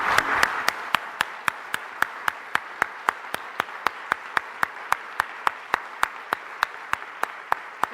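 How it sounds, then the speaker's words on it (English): Crisp, evenly spaced claps ring out in a steady rhythm for the students, like a small group or single person clapping in unison at a lecture, without speech. "Let's clap for the students who are going to be making our world."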